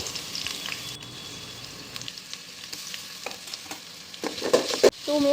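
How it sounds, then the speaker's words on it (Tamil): Ginger and garlic sautéing in a pan with green chillies, a steady close sizzle with occasional stirring scrapes and clinks, growing louder toward the end. "இஞ்சி பூண்டு ஆட் பண்ணிவிட்டு நல்லா ஒரு 2 மினிட்ஸ் அப்படியே வதங்கட்டும்"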